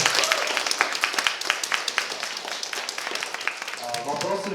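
Brief round of audience applause at a youth science slam competition, a few seconds of scattered clapping from the crowd, with a voice starting to speak near the end.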